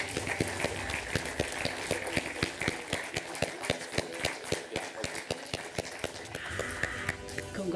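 Sustained crowd applause at a draw ceremony for the Women's Africa Cup of Nations 2026 final tournament, dense overlapping claps filling the room at steady loudness for the whole stretch, with faint voices murmuring underneath.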